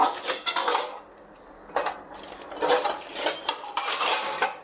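Steel bowls and pots clatter and clink close by in a home kitchen as one bowl is pulled out from a stack, sharp metallic knocks arriving in uneven bursts with brief quiet gaps between.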